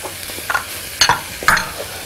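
Milk poured into a hot pan holding salted, peppered ingredients, producing a few short sizzling bursts with stirring scrapes between them, close and moderately loud with no voices.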